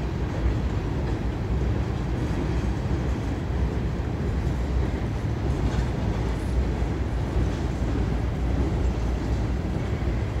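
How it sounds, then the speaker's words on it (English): A Norfolk Southern freight train hauled by new SD70ACe locomotives rolls past with a continuous heavy rumble and rattling of wagons, loud and steady from start to end with no talk. "Big train."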